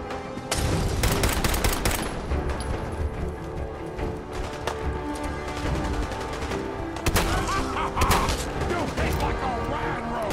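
Gunfire in Fallout 4 comes as repeated sharp shots and rattling bursts over a busy game soundscape, with loud clusters spread across about ten seconds.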